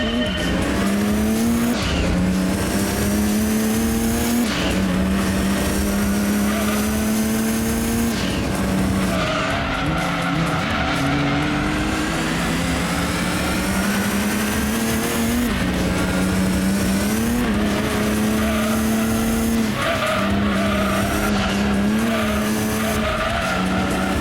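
Race car engine in the video game Gran Turismo 2, GT300 championship, accelerating hard from a rolling start. A loud, continuous roar climbs through repeated gear changes, with tire squeal and skidding, and no voices.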